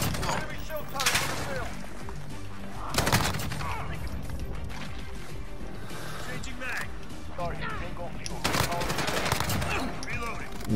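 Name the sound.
AUG rifle hip fire in Modern Warfare video game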